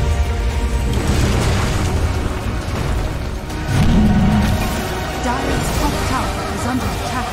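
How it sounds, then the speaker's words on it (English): A tower is destroyed in the Dota 2 video game. The result is a dense, booming rumble of crumbling structure mixed with battle noise that swells midway, loud and continuous, with no voice over it. "Dire's top tower has fallen."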